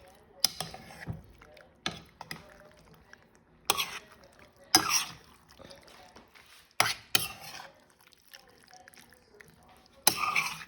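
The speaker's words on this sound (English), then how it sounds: "We're going to add the drained pasta to the marinara sauce. It smells delicious. We're going to stir this up" Drained pasta is stirred into marinara sauce in a pot, heard as scattered clanks and scrapes of a spoon against the metal. The knocks come in irregular bursts between quieter gaps, close to the microphone.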